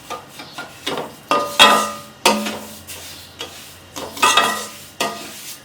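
A spoon stirs sugar melting in a pot while making suji halwa, giving repeated scraping, clattering strokes in an uneven rhythm, close and fairly loud, with no talking.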